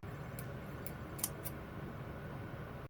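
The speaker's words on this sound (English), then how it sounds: "Now I'm going to take some scissors and I'm going to start cutting the lace." Scissors snipping the lace off a lace front wig, four quick, crisp, quiet snips spaced unevenly over a soft steady background hum.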